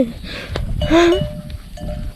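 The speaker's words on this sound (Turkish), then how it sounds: "Ha keçiler." Goats bleating around a tent at a campsite: a couple of short nasal bleats near the microphone, with faint rustling and a few bell-like clinks in between.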